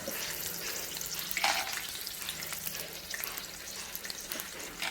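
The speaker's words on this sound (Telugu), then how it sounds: "పల్లీలు కూడా వేసుకోవాలండి." Peanuts frying in a pan with green chillies and round-cut eggplant slices for a peanut chutney, a steady close sizzle with stirring scrapes, no talk.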